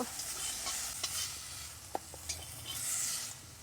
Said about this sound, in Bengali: আমি সামান্য একটু ভেজে নিচ্ছি মাছ এখন তুলে নেব